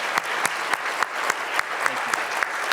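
Audience applause for a lecturer at an academic lecture: moderate clapping from a seated crowd, with a few sharp, distinct claps standing out over the steady patter.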